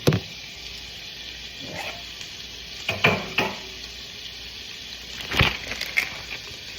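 Sirloin steak tips and vegetables sizzle in a pan, a constant close frying hiss punctuated by several scraping stirs and clattering bumps of a utensil.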